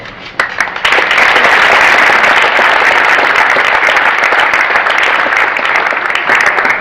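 Loud, close applause from a crowd welcoming Principal DeLong at a National Honor Society event, starting with a few scattered claps and swelling into steady, dense clapping that holds to the end.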